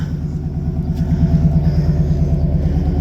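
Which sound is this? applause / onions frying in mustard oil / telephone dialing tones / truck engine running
truck engine running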